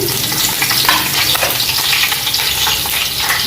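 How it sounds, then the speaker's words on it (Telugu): Curry leaves frying in hot oil while crabs are being cooked, giving a steady, dense sizzle with some stirring throughout and no talk. "ఇప్పుడు ఇది వేడైంది. ఇప్పుడు వెంటనే కరివేపాకు ముందు కరివేపాకు వేసి"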